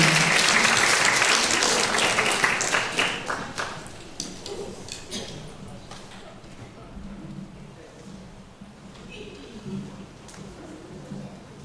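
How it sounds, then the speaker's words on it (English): An audience at a senior talent show applauds a performer, the clapping loud at first and then thinning out, with some talk over the tail. "Please give a warm round of applause for Miss Janie Langs."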